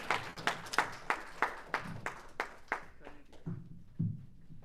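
An audience at a Toastmasters club open-house meeting claps in a steady, regular rhythm of sharp hand claps that gradually thins and softens toward the end, with no talking over it.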